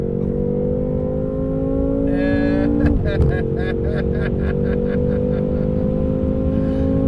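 A BMW F10 M5 Competition accelerating hard with traction control off, engine note rising steadily as it pulls through the gears, with a sharp shift around midway and loud, close cabin drone throughout.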